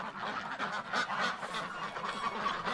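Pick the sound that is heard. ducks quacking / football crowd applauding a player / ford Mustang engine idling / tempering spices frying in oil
ducks quacking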